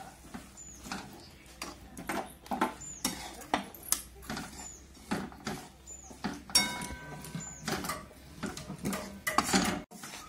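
A spoon scrapes and clacks against a pan as crushed peanuts are stirred into thick jaggery syrup for peanut chikki, in repeated rhythmic strokes with sharp metallic knocks, close and fairly quiet, with no talking.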